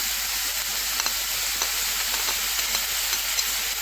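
Colored bell peppers dropped into a pan of frying chicken liver, with a steady broadband sizzle and hiss and a few soft stirring clicks, close and continuous with no talking.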